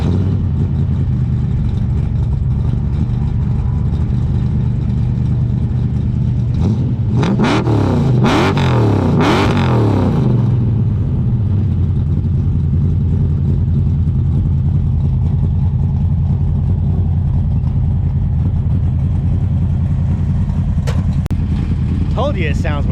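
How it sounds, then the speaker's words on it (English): Muscle car with American-made mufflers idling with a deep rumble, then revved hard several times in a loud burst before settling back to a steady idle; speech can be heard under the engine. "let's go ahead and fire this sucker up and give you the difference between crappy mufflers and most gooder American-made mufflers"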